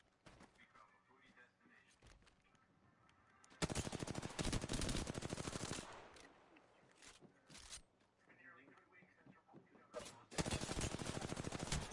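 Automatic gunfire aimed at the player in a shooter game, sharp rapid bursts in two long loud volleys with shorter shots between, close and harsh, while the player talks over the action.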